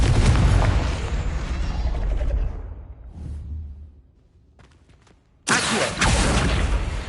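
Fiery Confringo spell blasts from the Hogwarts Legacy video game: a loud, broad explosive burst that rumbles away into a low tail, then a second sharp blast erupts a few seconds later.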